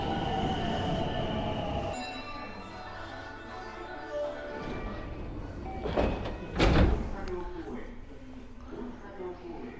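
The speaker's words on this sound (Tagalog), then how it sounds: "Yun na yung train na sasakyan natin" A train in Japan heard from a station platform, a steady rolling rumble with brief wheel squeal and a swell of louder passing noise near the middle, while people speak nearby.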